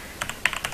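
Several quick keystrokes on a computer keyboard while entering a Java class name, a short run of light, close clicks with uneven spacing and no talk.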